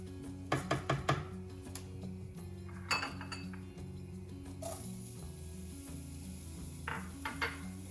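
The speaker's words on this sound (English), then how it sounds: "We're ready to add the onion." Onion goes into a frying pan of rice already toasting white, bringing a soft steady sizzle, sharp clinks of a utensil against the pan near the start and middle, and light stirring scrapes throughout.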